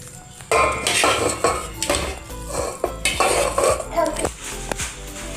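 A metal spoon scrapes and clinks against a pan as dabeli masala is scooped out into a vessel, a string of loud, close clattering strokes with no talk over it.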